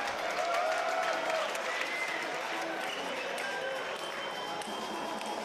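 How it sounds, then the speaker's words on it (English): Crowd whistles rise from a packed arena before the Felix Lebrun vs Alexis Lebrun quarterfinal table tennis match at the 2024 Europe Top 16, with several shrill whistles over a steady roar of crowd noise and faint commentary underneath. "Already some whistles blowing."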